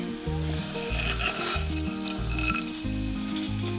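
Peanuts roast in hot oil, a dense, even sizzle that runs continuously and close, with light stirring and the occasional brighter crackle, and no voices.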